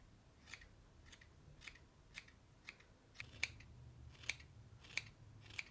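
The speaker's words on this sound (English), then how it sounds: "Now I'm just cutting." Scissors snip through hair during a home haircut, about ten crisp, sharp clicks at a steady, unhurried pace, close and clear against a quiet room, no voices.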